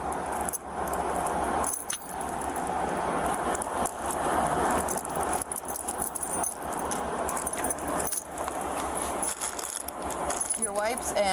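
A bunch of house keys jangles and rattles continuously in someone's hands, with voices and a dense, busy background throughout.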